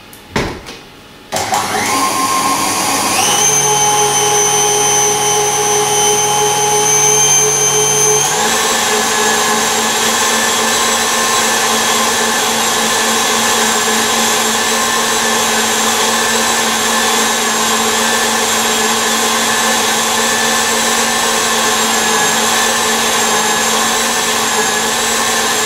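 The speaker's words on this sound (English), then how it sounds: "I'm going to whisk those together." An electric whisk mixes lemon zest and juice for a lemon meringue pie, starting with a clatter, then shifting up in speed twice before settling into a loud, steady whine that runs without talk.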